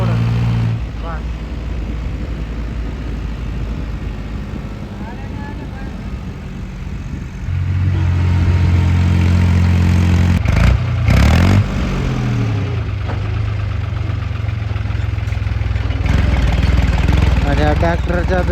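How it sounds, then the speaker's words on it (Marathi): An International tractor's diesel engine runs steadily throughout, with a low rumble that grows louder and heavier about halfway through as it revs. A few brief knocks and clatters cut in near the middle. "ट्रॅक्टर चालू करतो"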